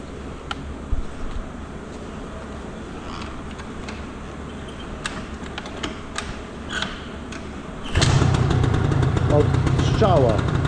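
A scooter-style dragster engine fires up and settles into a steady idle, starting with faint tapping and clicks and then becoming a constant close rumble.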